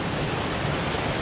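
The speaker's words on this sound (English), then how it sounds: "This waterfall actually is more clean than that one." A waterfall in Brazil roars as a dense, steady wash of falling water, close and uniform for a brief moment with no talk.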